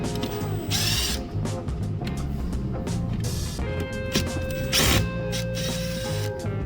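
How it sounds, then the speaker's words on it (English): Screws are backed out of the plastic clamp holding the battery in a 2014-2024 Maserati Ghibli, a steady run of close ratcheting, clicking and scraping from a hand tool against a constant mechanical hum. "Now we are going to remove this plastic screw clamp."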